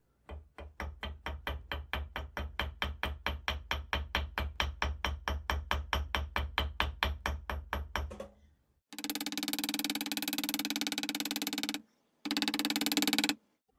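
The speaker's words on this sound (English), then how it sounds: "Now that that's a better fit in the bench block, I'll peen over one side of the slot" A hammer peens over one side of a screw slot held in a bench block: a steady, rapid run of about forty sharp metallic taps, followed by two bursts of harsher continuous noise.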